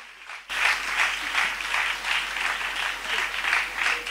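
Church congregation applauding and acclaiming God, steady loud clapping that starts abruptly after a short quiet moment and keeps going with a rippling rhythm.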